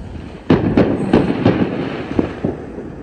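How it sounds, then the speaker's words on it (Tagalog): Bonfire night fireworks exploding across a UK neighbourhood: a loud series of sharp bangs and cracks at irregular intervals, some close and some farther off, over a low background rumble. "Kaya ang daming nagpa-fireworks, hindi lang kami dito."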